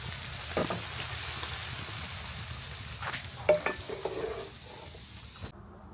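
Sliced onion frying in a pot over an open outdoor fire, a soft steady sizzle with occasional metallic stirring knocks and scrapes, fairly quiet and without speech.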